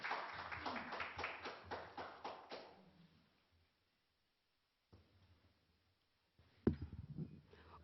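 Audience clapping at a Korean policy debate forum ends a presentation with a quick run of rhythmic claps that fades out after a few seconds, recorded quietly and from a distance.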